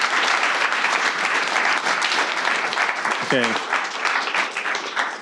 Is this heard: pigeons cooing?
no